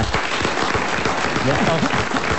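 Studio audience applause on a French radio comedy show, a short burst of clapping with voices talking over it, lasting a couple of seconds.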